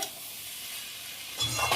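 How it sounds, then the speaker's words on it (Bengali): Mixed vegetables for a prawn curry sizzle steadily in a pan, a close hiss that swells near the end as they are stirred. "সবজিটা খুব ভালোভাবে ভাজা হয়ে গেছে"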